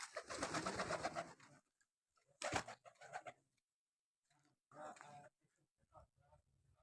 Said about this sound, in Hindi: इधर काफ़ी ज़्यादा परिंदे कबूतर हैं